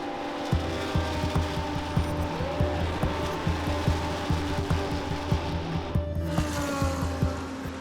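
Race car engines roar continuously at close range at the 24 Hours of Spa, with a steady run of sharp rhythmic pulses and one car sweeping past near the end.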